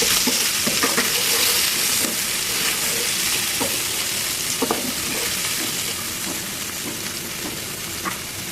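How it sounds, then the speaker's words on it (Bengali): Onions frying in oil in a pan for an okra dish: a loud, steady sizzle and hiss with occasional scraping stirs, close up and continuous, with no talking. "পেঁয়াজগুলো লাল করে নিচ্ছি"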